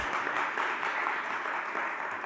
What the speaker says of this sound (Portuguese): Dê um aplauso a Cristo nessa noite, por favor.